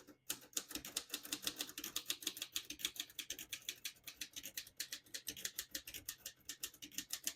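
Steady, rapid typing on a 1947 Royal Quiet Deluxe portable manual typewriter, crisp mechanical key strikes in a continuous close rhythm with no voices.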